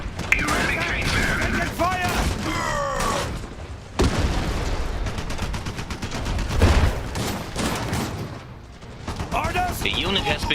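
Gunfire and explosions in the Iron Harvest video game, repeated heavy bursts, booms and clanking mechanisms layered with shouted voice lines and battle chatter, loud and dense throughout.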